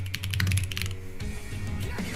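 Fast, steady clatter of typing on a computer keyboard, with many quick keystrokes close up over a constant low hum.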